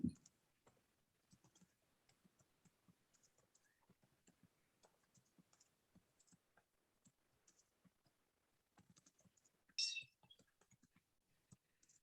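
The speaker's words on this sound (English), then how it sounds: "This is called typing very quickly." Fast typing on a computer keyboard, a rapid run of light, close key clicks with a short louder burst near the end.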